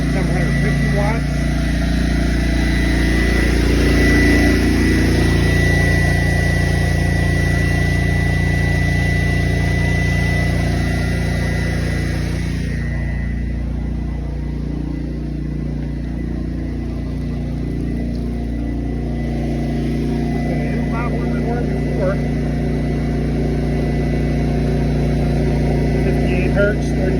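A Honda EU11000 generator runs on natural gas under electrical load with a steady, loud, close engine drone that holds nearly constant, easing slightly midway.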